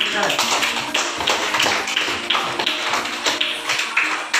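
Schoolchildren clap their hands together in a classroom during a teaching practice lesson on fruit, a run of sharp, fairly regular claps sounding close and loud, with voices chattering underneath.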